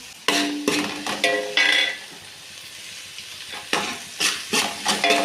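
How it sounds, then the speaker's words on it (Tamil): Onions and curry leaves sauté in hot oil, with bursts of loud spatula scraping and clattering against the pan over a quieter sizzle that drops away mid-clip and then returns with more stirring knocks. "வெங்காயத்தை கூட கருவேப்பிலையும் போட்டுக்கலாம் நல்லா வணக்கி எடுத்துக்கலாம்"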